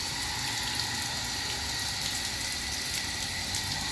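An on-demand booster water pump motor runs steadily, a constant hiss and hum of water rushing through it with no breaks, fairly close and alone without talk.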